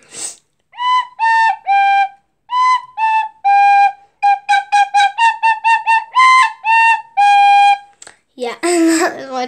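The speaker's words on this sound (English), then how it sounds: "that is my tin whistle" A tin whistle plays a simple tune of short and held bright notes, close and loud, ending with a brief noisy burst.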